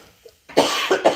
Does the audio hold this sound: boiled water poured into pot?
no